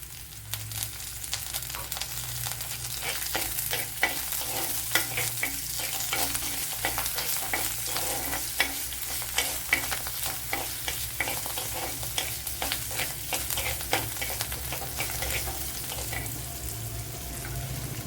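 Tempering ingredients fry in hot oil for a green mango curd curry. The sizzle is steady and close, with frequent crackles and pops and a spoon stirring now and then, and no one speaks.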